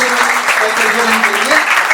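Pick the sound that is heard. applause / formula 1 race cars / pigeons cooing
applause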